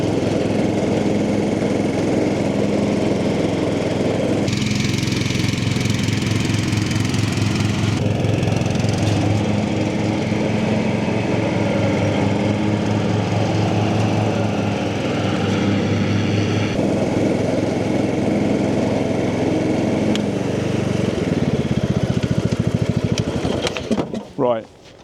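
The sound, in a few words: Cub Cadet ride-on lawn mower running with blades engaged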